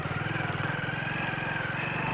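A motorcycle engine labours in first gear while climbing a slope, a steady close, low rumble with a fast even throb, loud and continuous with no talk.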